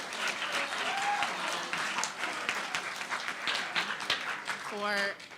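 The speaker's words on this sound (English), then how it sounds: "Give a round of applause for that, please." Audience applause rings out through a university opening assembly for the January term symposium, a dense, steady wash of many hands clapping that lasts throughout, with a brief whistle or vocal tone near the end.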